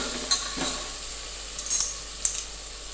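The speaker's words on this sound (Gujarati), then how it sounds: "હવે આપણે ટામેટા મરચાં નાખી દઈશું આપણે હલાવી લઈશું થોડી વાર માટે" A spoon scrapes and taps in a pan of tomatoes and chillies sizzling softly, with a few sharp metallic clinks over a faint, steady frying hiss and no talking.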